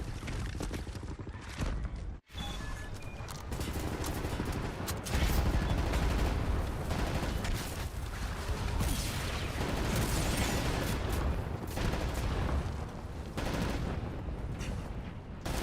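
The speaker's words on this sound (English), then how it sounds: "Right, lads, you ready to lay down suppressor fire?" A sustained barrage of suppressing gunfire in a WWII shooter fighting Nazis crackles without pause for many seconds, dense rapid shots layered over booms and battle noise.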